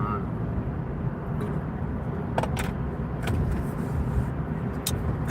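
Road traffic passes in a continuous broadband rumble, steady and moderately loud, with a few brief sharper swishes as vehicles go by.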